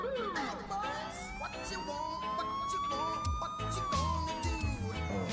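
Police sirens from the video game DayZ wail and sweep up and down in loud, overlapping tones, close and continuous, mixed with engine rumble and clatter.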